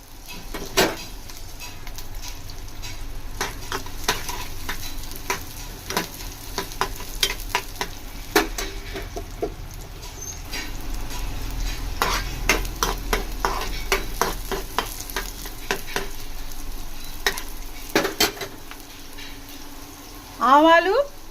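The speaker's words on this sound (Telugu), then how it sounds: "ఇందులో నేను సన్నగా కట్ చేసుకున్న ఆనియన్ వేసుకోండి ఫ్రెండ్స్." Thinly sliced onion and crushed garlic cloves frying in oil in a pan, a soft steady sizzle under repeated stirring scrapes and clinks of a spoon, with a brief voice near the end.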